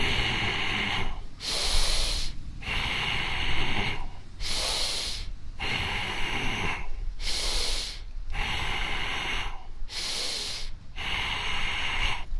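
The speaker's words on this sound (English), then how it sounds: "Breathe in," Deep, forceful breaths during a dynamic tension breathing exercise for seniors, close and hissing, with about six long inhale-exhale cycles at an even, slow rhythm.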